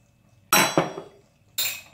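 A small teaspoon clinks against a metal pot while pesto is spooned into sausage pasta, three close, bright metallic taps, the first two in quick succession and the third a moment later, with no talking.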